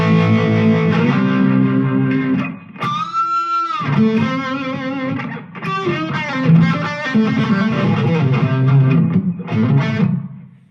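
Electric guitar riffs and chords through a Blackstar ID:Core V3 practice amp's shimmering modulation effect, loud and continuous with a brief swooping note partway through.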